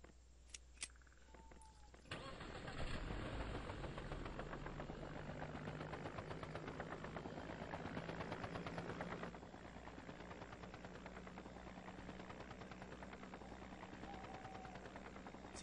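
A helicopter in the survival video game Survival flies along with a steady, loud rotor drone and engine hum throughout, its blade chop continuous, with a few brief clicks near the start.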